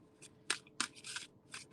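Tarot cards are shuffled by hand in a few quick, crisp riffling bursts, close and quiet in a still room.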